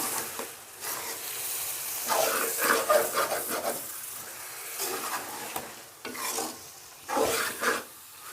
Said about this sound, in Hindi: अब इन सब चीज़ों को मैं मिक्स करूँगी।